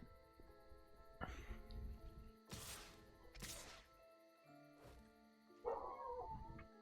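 Dogs bark somewhere in the distance, a few scattered barks and yips, faint and muffled beneath a quiet indoor background.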